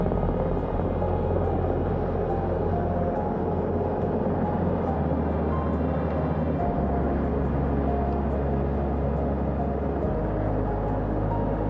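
A recovery helicopter carrying two Artemis II crew members comes in to land on a ship, a heavy constant rotor roar with rhythmic blade chop and low engine drone shifting in pitch as it descends.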